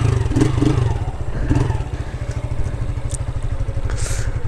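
Small 160cc and 205cc motorcycle engines running together before a stair race, a steady close rumble with revving bursts and some clatter, continuous throughout.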